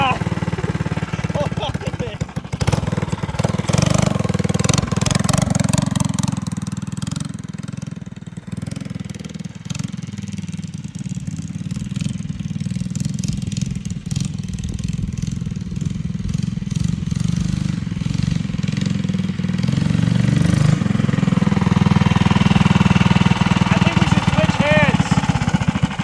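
An offroad mini bike with a 6,000rpm racing motor and modified exhaust runs steadily and loudly throughout, its engine drone holding close with small surges in revs.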